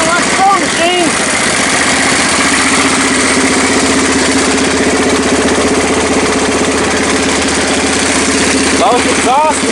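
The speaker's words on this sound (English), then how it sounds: "Sounds like we have us a revived engine." A Briggs & Stratton 22hp Intek V-twin engine, rebuilt after blown head gaskets, idles steadily and loudly up close with an even pulsing drone, and a voice speaks briefly at the start and the end.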